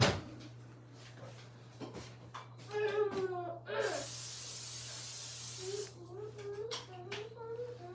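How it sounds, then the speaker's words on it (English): A steady hiss of olive oil cooking spray runs for about two seconds, with a child and an adult talking before and after it. "Okay, we spray this."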